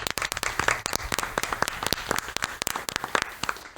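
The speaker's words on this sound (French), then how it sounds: "On l'applaudit également." An audience claps for a guest named Léa on a French evening show, a fairly small group of hands whose claps land sharply and unevenly, close and distinct, for a few seconds.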